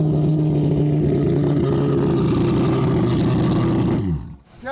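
A four-rotor Mazda RX-7 engine roars loudly and steadily at high revs, a dense buzzing drone held close up for several seconds before abruptly cutting off.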